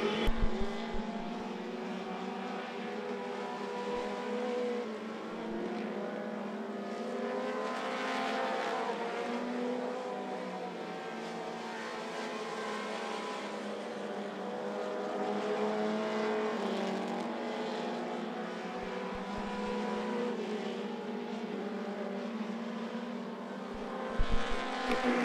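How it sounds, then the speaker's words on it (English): Four-cylinder race cars lap the I-75 Raceway oval in a continuous, fairly distant engine drone that swells and fades as the pack passes, with no voices. "Derek Dugan continues to lead the way with lap nine going up on the board as we near the halfway point"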